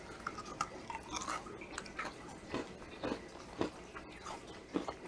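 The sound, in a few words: chewing South African tameletjies nut toffee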